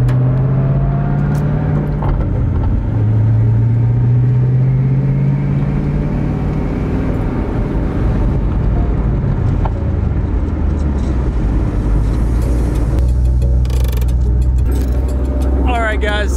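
Twin turbo Ford Mustang Boss 302 on a road test drive, engine droning steadily with rising and falling revs heard from inside the car, loud and continuous.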